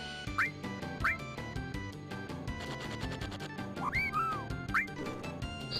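Short rising chirpy squawks of a Chocobo from Final Fantasy 7, like a cartoonish bird cry, repeat several times over busy looping game music.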